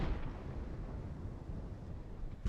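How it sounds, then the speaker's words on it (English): Age-of-sail artillery fire in Ultimate Admiral: Age of Sail, a continuous low rumbling roll of distant cannon booms with a sharper report near the end, no voices. "let's go ahead and use the artillery for a little bit"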